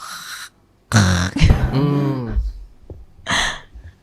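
A woman imitates a man snoring with a drawn-out, rasping nasal snort and breathy gasps, loud and close, between short bursts of her speaking voice.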